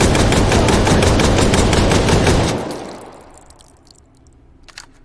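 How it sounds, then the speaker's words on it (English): Rapid automatic gunfire from an AA-12 shotgun fired one-handed in the VR game Hot Dogs, Horseshoes & Hand Grenades, a loud burst of fast evenly spaced shots lasting about two and a half seconds, then fading into quiet with a few faint clicks. "Now here I am, firing it one-handed."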